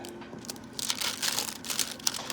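Crinkly tearing of thin washi tape by hand, a few quick ripping bursts close by, with no voices.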